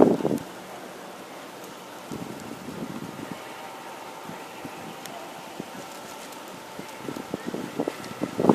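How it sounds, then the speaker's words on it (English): Steady rain falls outdoors with a broad, even hiss, broken by scattered drops and light rustling close by, plus a bit of wind buffeting the microphone. "Had to move over from the rain, man."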